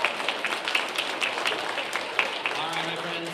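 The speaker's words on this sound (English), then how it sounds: "Let's give these fourth graders one last very big round of applause," Audience applause for fourth graders after an elementary school concert, a moderate round of clapping with a few sharper claps, heard alongside voices.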